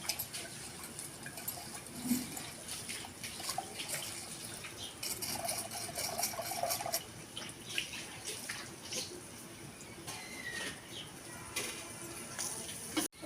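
Fish being washed under running water in a home kitchen, a steady broadband splashing stream with intermittent louder gushes and small clatters, close and continuous throughout, no voices.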